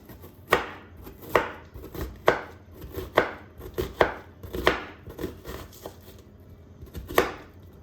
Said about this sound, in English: I'm gonna chop this up fine.